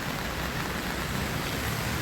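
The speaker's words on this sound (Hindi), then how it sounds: "देखते ही देखते इतनी तेज़ बारिश आ गई" Heavy rain pours down steadily near a beach, a dense, continuous hiss that stays loud and unbroken throughout with no voices over it.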